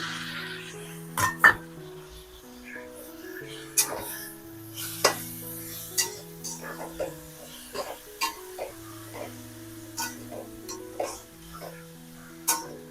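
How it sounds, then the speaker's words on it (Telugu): Chopped tomatoes go into frying onions in a pan for a Telugu egg and tomato curry, giving a soft sizzle punctuated by sharp clicks and scrapes of stirring, with steady tones lingering in the background. "ఇప్పుడు ఇందులో టమాటాలు వేసుకుందాం"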